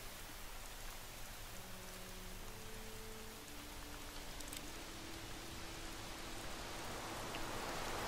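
Rain and wind in the hunting game theHunter: Call of the Wild make a steady, even hiss of falling rain that swells slightly toward the end, with faint tonal game sounds under it and no talk.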